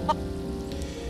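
A Minecraft chicken gives a short, close cluck at the start, then quiet game ambience for the rest of the moment.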